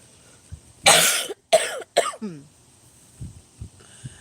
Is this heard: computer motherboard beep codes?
no